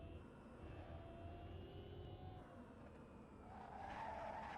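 Tesla Roadster Sport in the Assetto Corsa racing game, tyres spinning and skidding with a steady electric whine, the screech swelling louder near the end; no talk over it.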